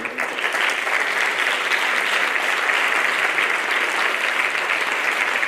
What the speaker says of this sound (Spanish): E só por iso gustaría pedir un moi forte aplauso para todos vós.